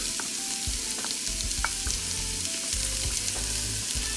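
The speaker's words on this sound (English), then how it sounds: "what we're going to do now is add our onions. And then we're going to add our garlic." Onions and garlic frying in a pan for arroz caldo, a loud continuous sizzle close up with occasional stirring clatter and scrapes, no talking.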